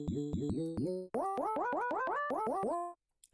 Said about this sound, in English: It's just a really simple singular note on a basic synth I made.